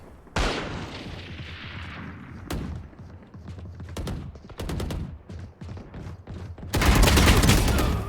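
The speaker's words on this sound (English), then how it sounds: "I feel like these guns shoot way faster." Guns fire in the game Palworld: scattered single shots are followed by a dense, loud volley of rapid fire at the end, with no speech over it.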